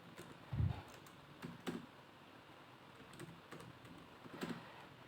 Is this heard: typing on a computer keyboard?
yes